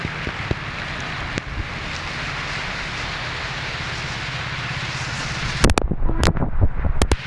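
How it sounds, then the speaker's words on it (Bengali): A truck passes on a nearby road ahead of a coming rainstorm, its low rumble blended into steady wind and rain noise, followed by sharp bumps and crackles near the microphone toward the end. "এই যে রাস্তায়, পাশের রাস্তায় ট্রাক যাইতেছে।"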